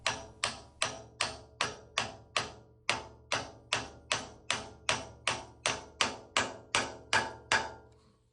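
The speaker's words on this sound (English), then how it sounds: "I'll just use a brass hammer here to gently drive it on over top of those roll pins" A brass hammer drives a part onto roll pins on a Sanford surface grinder in a steady series of about twenty sharp, evenly spaced blows, close and alone, each ringing briefly.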